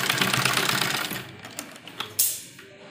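Sewing machine stitching lace onto a net blouse, a fast buzzing run of needle strokes that slows and stops, followed by a few sharp clicks and clacks, close and fairly quiet.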